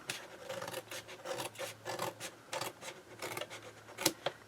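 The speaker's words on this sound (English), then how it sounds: "I do have just a little edge here that I'm going to cut off" A small edge being cut off a cardboard box, rhythmic rasping strokes of a blade through cardboard repeating about twice a second, close and moderately loud, ending with a sharper snip.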